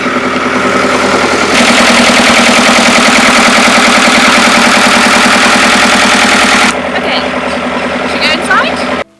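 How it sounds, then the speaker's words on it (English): A chunky narrowboat diesel engine runs loud and close, with a steady idling rumble and a clattering mechanical texture; the sound cuts off sharply near the end as it drops away. "I'll show you what the engine looks like for those of you who are interested."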